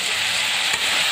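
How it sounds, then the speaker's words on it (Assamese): Food frying in a pan while the water cooks off, a steady close hiss of sizzling oil that runs unbroken through the whole short moment with no talking. "অকণমান ভালকৈ ভাজি থাকিম"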